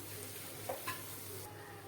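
Masala with green chilli stirred and fried in a pan, a steady quiet sizzle with a couple of soft scraping strokes midway.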